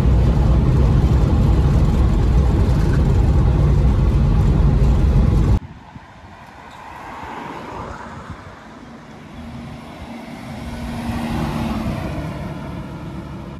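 A Bedford HA van drives on an open road. A loud engine and road drone lasts about five seconds, then cuts to a quieter, rumbling cabin hum that swells a little toward the end.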